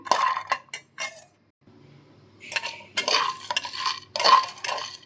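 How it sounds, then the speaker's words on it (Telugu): Seeds for healthy laddus are roasted one batch at a time in a pan. A spoon scrapes and rattles them in bursts, with a brief quiet gap, a soft hum and close metallic clinks. "నేను ఇక్కడ ఒక్కొక్కటిగా ఫ్రై చేసుకుంటున్నాను"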